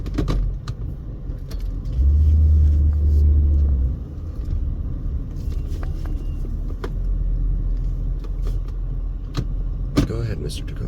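A Toyota Tacoma SR5 pickup truck drives along with a steady low engine and road rumble, swelling louder for a couple of seconds early on, with a few light clicks and rattles near the end.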